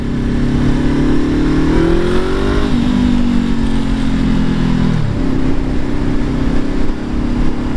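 A Peugeot 308 GTi engine revs and accelerates, a loud, close, continuous engine drone whose pitch rises and dips, mixed with road and wind noise.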